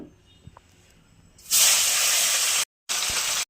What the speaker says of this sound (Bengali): মাছগুলো লবণ হলুদ মাখিয়ে নিচ্ছি, এবার ভেজে নেব।